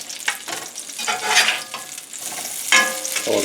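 Salisbury steak patties frying in a hot pan give a close, busy sizzle with crackles and spatter. It swells in waves, with sharper bursts partway through as the patties are moved and flipped.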